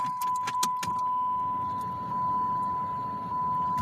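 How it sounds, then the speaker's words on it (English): Keys jingle and click briefly as a key is turned to ignition in a 2005 Dodge, then a steady warning chime tone rings inside the car over a low cabin hum. "Insert your key. Turn the key to ignition, switch on."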